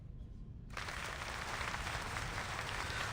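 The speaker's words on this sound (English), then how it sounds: "Amidst applause, Hartwig bows, handing off the stage to its true protagonist" Applause from an opera audience in Reverse 1999 bursts in after a quiet start and continues as a dense, steady clatter of clapping, moderately loud, with no talk.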